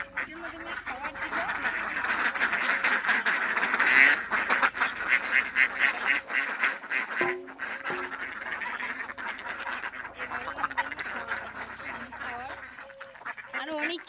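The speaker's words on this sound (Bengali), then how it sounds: "এখন আমি তোমাদেরকে দেখাবো আমাদের হাঁস।" Ducks on a duck farm quack and honk in a dense, continuous chorus while being fed, close and loud, with a person talking at times over the birds.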